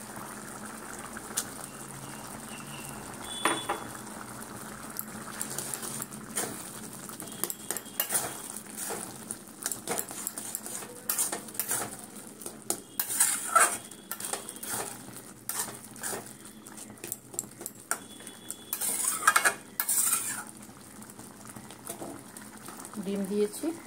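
Egg being added to dal tadka in a pan and stirred, with soft bubbling, clinks of a spoon against the pan and scraping strokes at intervals, quiet and close, while someone talks over it.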